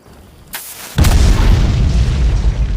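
A candle packed with gunpowder blowing up in an animated scene: a small pop, then a loud close boom that rolls into sustained rumbling noise.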